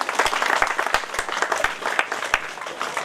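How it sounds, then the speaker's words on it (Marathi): Audience applauding at a school program, a dense steady patter of many hands clapping throughout, fairly close and lively. "टाळ्या वाजवा"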